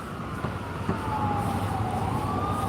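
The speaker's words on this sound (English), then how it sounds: "Sounds like an ambulance." An ambulance siren wails, sweeping up and down in the distance over a low New York City traffic rumble, faint but steady.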